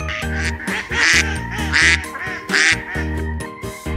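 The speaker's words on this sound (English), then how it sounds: "Number 8. Duck." A duck quacks repeatedly in a loud, close, nasal series of calls with short gaps between them, alone with no talking.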